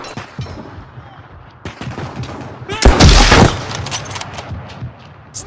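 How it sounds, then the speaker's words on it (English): Burst of gunfire in a Lego animation: a loud, dense volley of shots around the middle, standing out over a busy battle background with scattered smaller cracks and shouting voices. "snipers shooting at us!"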